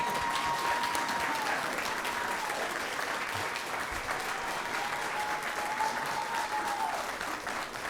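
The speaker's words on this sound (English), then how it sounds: "It's okay to clap now." An audience at a school board meeting claps steadily for a new elementary school principal, a full, continuous round of applause lasting several seconds with faint voices underneath.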